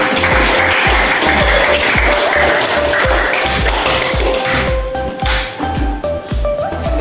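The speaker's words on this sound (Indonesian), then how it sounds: "Tepuk tangan untuk Raka" A classroom group claps loudly for a student presenter, continuous clapping layered over a steady rhythmic thumping beat that carries through the whole stretch.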